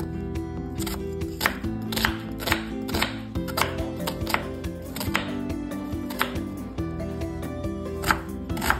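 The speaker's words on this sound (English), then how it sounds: "I think it's ready, so maybe we'll have to cut it into pieces." A knife chops cooked meat pulled from a pot of borscht on a cutting board. The cuts come as a quick run of crisp, fairly close taps and knocks, with no talking.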